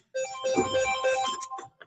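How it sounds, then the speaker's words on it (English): A telephone rings once with a bright electronic ringtone, about a second and a half long, heard clearly on its own. "Diane, get the phone."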